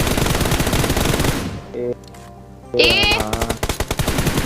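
Bursts of rapid automatic gunfire ring out in a shooter video game, stopping briefly and then resuming, with short spoken interjections between the volleys.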